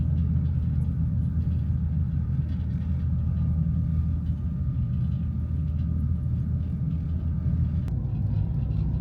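A vehicle's deep, steady road rumble fills the scene as it drives toward a ferry dock on Cape Hatteras, a continuous low drone with no voices.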